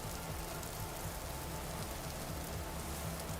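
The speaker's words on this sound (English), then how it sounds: "I did also set my world to be humid, so we get slightly more rain everywhere." Steady rain falls in the survival game Vintage Story, a dense even hiss of drops with a low rumbling bed, continuous and moderately loud throughout with no voices.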